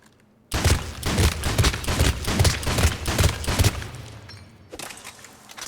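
A Piranha shotgun from Mass Effect 3 fires on full auto in a rapid, even burst of about eight loud, close blasts. The burst stops abruptly, and a single shot sounds near the end.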